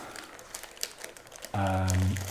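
Cellophane crinkles in short, scattered crackles as a piece is cut and handled to wrap a floral festive gift made on card, then a loud steady tonal sound takes over for the last second.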